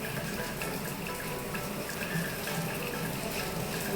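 A steady stream of water pours into a bowl of salted wheat flour for dough, an even splashing rush that continues without a break; no one speaks.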